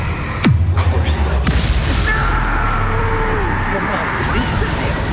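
A loud magical blast from the Expulso explosion spell in Hogwarts Legacy booms out amid heavy game noise, with a low rumbling tail and voices speaking over it.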